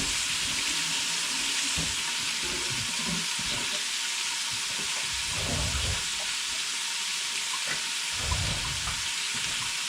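Bacon and mushrooms fry in a small cast iron pot with a loud, continuous sizzle and occasional scraping stirs and soft knocks underneath; nobody speaks.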